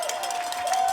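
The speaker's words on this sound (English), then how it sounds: "how about a round of applause for yourselves?" A crowd at a rugby championship rally applauds and cheers, a dense, continuous wash of clapping heard as a brief burst.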